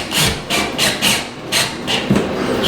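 Self-tapping molly anchor driven into a wall during apartment maintenance, giving close, loud rhythmic grinding bursts of about six turns, each a scraping rasp with short pauses between.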